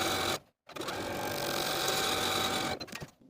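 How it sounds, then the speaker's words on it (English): A sewing machine edge stitches around the hem of a women's top, running steadily close to the finishing stitches, with a brief pause early on before the stitching resumes loud and even to the end. "I'm going to edge stitch close to those finishing stitches all the way around"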